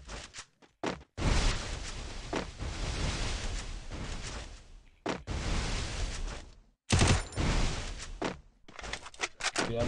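Bursts of automatic gunfire from the Garena Free Fire video game, loud and close, coming in several rapid volleys separated by short silent gaps.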